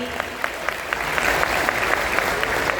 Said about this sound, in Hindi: हमारे सभी ब्रांड पार्टनर्स के लिए एक बार जोरदार ताली।